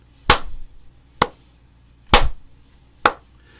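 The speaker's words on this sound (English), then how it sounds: "and even if I clap it" Four sharp hand claps in a steady, evenly spaced beat, close and crisp with brief decays and quiet between them.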